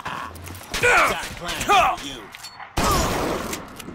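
A gun fires a couple of sharp shots in the BioShock game, mixed in with people talking over the action.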